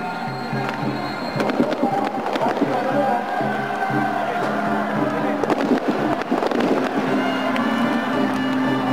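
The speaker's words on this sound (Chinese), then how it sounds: "而且也开始放这个烟火啦" A fireworks show bursts over the outfield of a CPBL baseball stadium as the Uni-President Lions celebrate winning the first-half title. Dense crackling pops and booms roll on continuously and loudly over a steady roar from the crowd.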